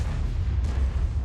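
An artillery shell scores a direct hit on an E100 heavy tank in a tank video game, a heavy booming impact with a thick rumbling low end, loud and continuous through the brief moment.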